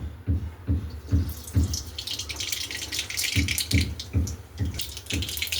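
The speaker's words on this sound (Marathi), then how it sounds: "मोहरी छान तडतडली" Mustard seeds spluttering in hot oil for a home-style Vidarbha tempering: dense, close crackling pops that start a moment in and keep going, with regular low knocks underneath.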